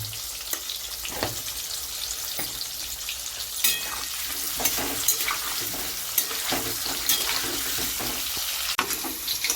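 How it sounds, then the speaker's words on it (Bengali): Potato pieces fry in a pan of hot oil, sprinkled with a little turmeric and salt, giving a steady close sizzle with scattered crackles and occasional scrapes of stirring throughout. "আলু ভাজা হয়ে গেছে, এর বেশি আর ভাজবো না।"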